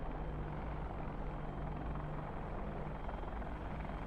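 An Apache attack helicopter at an air show gives a steady, loud rotor and engine drone that holds evenly throughout, with a low thrumming rumble underneath.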